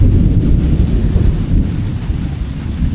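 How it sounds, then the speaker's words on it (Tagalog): Heavy rain pours steadily on a farm during a rainstorm as thunder rumbles low and loud throughout, forming a dense, unbroken roar without any voices. "Sobrang lakas ng kidlat."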